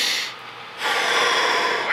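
A slow, deep breath drawn in through the nose and mouth as part of a calming breathing exercise, a close, airy hiss that swells and holds steady for about a second.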